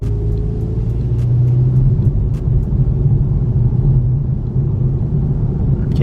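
BMW 330i idling with a low, steady engine rumble, close and continuous with no revving and no talk.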